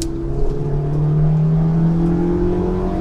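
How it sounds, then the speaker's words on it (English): A Honda S2000 engine revs hard as the car accelerates, a loud, close, rising tone climbing steadily through the gear for about three seconds without a break. "That was not even red line, but it picks up so nicely."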